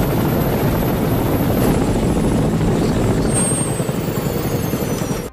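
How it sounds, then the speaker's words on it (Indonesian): A helicopter's steady rotor roar fills the scene, loud and continuous, with a slight easing toward the end. "Ethan melihat helikopter yang datang ke arahnya"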